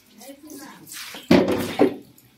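A Crezon magic mop dunked into a water bucket gives two splashy sloshing bursts, close and fairly loud, after quieter handling and a voice in the background.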